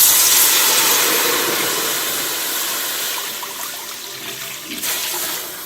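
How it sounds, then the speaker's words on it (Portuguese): One litre of water rushes into a cooking pot, a loud, close, continuous gushing pour that gradually eases over several seconds. "1 litro de água, coloca na sua panela."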